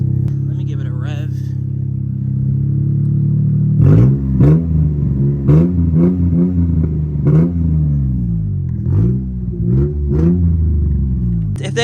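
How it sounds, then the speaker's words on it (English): A Honda Beat kei car's small engine idling close by, then revved repeatedly in sharp blips that rise and fall back to a steady idle. "Let me give it a rev."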